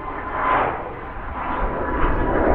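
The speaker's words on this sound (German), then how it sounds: "Da startet gerade wieder ein Flugzeug da hinten." An airplane taking off from Düsseldorf airport gives a distant, steady roar that swells slightly, heard alone from somewhere outdoors in the surrounding countryside.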